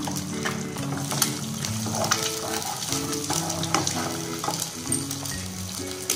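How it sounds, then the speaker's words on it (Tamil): Two eggs fry in a pan already used for frying chicken while making chicken fried rice, giving a continuous bright sizzle with faint spatter, heard alongside steady tonal background music. "ஒரு 2 முட்டை ஊத்தி தனியா ஃப்ரை பண்ணி எடுத்து வச்சுக்கலாம்"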